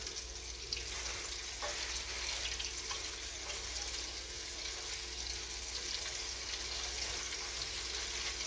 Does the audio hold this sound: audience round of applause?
no